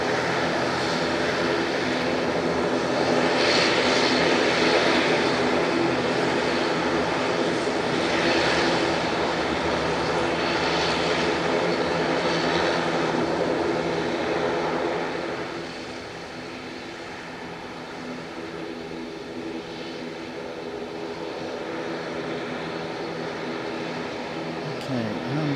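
ATR 42 turboprop airliner landing at Nagasaki Airport, a steady droning engine roar heard from a distance that swells and then drops noticeably midway, continuing as a lower hum.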